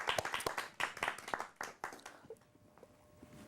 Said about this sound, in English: Let's give a round of applause, Sharon.